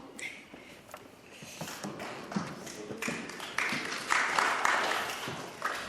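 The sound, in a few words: sparse audience applause at a lecture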